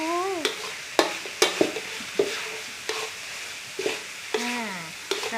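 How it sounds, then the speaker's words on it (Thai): Minced pork is stir-fried in a pan with a continuous close sizzle, punctuated by sharp scraping and tapping strokes of a spatula, while a voice briefly talks between the strokes. "ผัดให้มัน"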